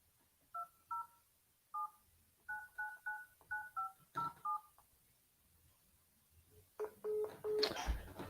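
Telephone keypad dialing tones during a cold call, a series of short evenly spaced beeps in clusters, followed by a brief ringing or line tone near the end.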